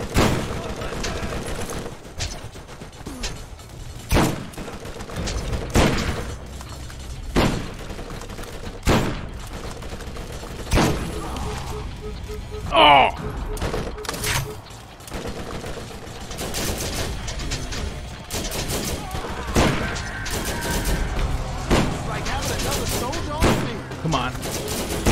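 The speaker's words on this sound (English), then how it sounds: "it's a sentry gun" A sentry gun firing in the Borderlands video game, with bursts of rapid gunfire and sharp shots scattered through a busy combat mix, while someone talks intermittently over the shooting.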